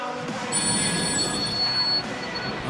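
A telephone rings inside the NBA 2K14 basketball video game on PS4, a bright electronic trill sounding alone and fairly loud, with steady ringing tones held through most of the short stretch.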